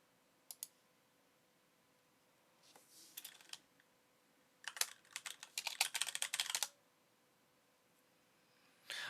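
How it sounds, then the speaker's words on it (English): Clattering keystrokes on a computer keyboard come in short irregular bursts, close and fairly quiet, with pauses between runs and no talking. "I'm gonna just type in actions."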